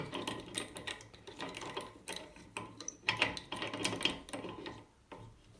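A bathroom tap fitting being tightened back together after a washer replacement, giving a run of close, irregular metallic clicks, ratcheting scrapes and small knocks over a low hum, with no talking.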